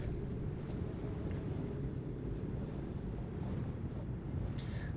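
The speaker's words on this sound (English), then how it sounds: "I continue to hear the wind blowing and breezing." Night wind in Kingdom: New Lands, a steady, loud low rumble of gusting air that fills the whole stretch, with a faint brief hiss near the end and no voices.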